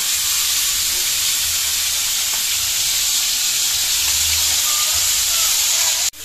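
Loud, continuous sizzling and hissing of ingredients sautéing in a hot pan for a Filipino fish cardillo dish, steady and close throughout, with a brief clunk near the end.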